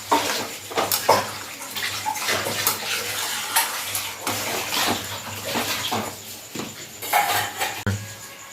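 Water is poured into a pot of matar paneer curry cooking in a home kitchen, a splashing gurgle mixed with clinks of utensils against the pot.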